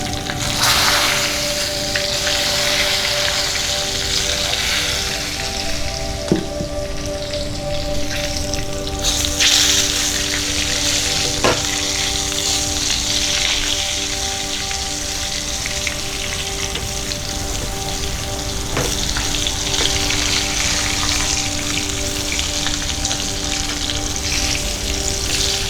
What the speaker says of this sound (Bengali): সবকটা বেগুন একসঙ্গে ভাজা যাচ্ছে না, আমি দুভাবে ভেজে নিচ্ছি।